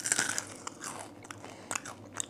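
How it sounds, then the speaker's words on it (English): Crunchy pepper chips are bitten and chewed up close, giving a series of sharp, crackly crunches with short pauses between bites and no talking. "And let's get a crunch, okay?"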